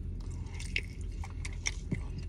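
Someone bites into and chews charbroiled chicken wings from Flame Broiler, with soft wet crunches and smacks close to the mic over a low room hum.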